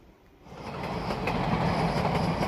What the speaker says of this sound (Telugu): అక్కడ పక్కనే ట్రైన్ వెళ్తుంది.